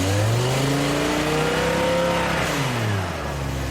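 A BMW M5 E60 with its V10 engine revs hard while driving, then the throttle is cut, the loud rising howl dropping away over a few seconds, close and continuous.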